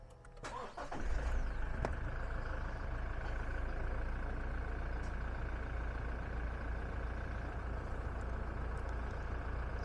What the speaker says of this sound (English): I'll go around and start the vehicle up.